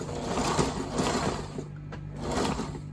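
A sewing machine stitches a short stretch forward and then reverses over the seam to reinforce it, producing a close, steady mechanical whir with a brief pause and the rhythm changing as it backs up.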